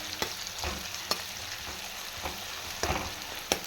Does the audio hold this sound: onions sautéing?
yes